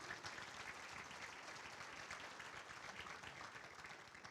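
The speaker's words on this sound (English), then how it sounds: "If we could have a nice round of applause for them and all that they do." A banquet audience applauds steadily at a university athletics scholarship ring dinner, a dense continuous wash of many hands clapping at moderate distance for several seconds.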